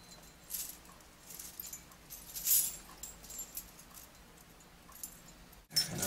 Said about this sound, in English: you're testing out keys